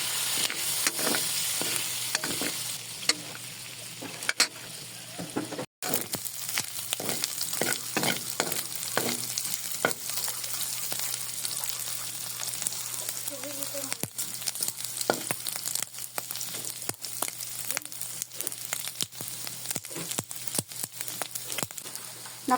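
Snails simmer and sizzle in a pan of adobo with vinegar, a steady close frying hiss broken by scattered clinks and scrapes of stirring.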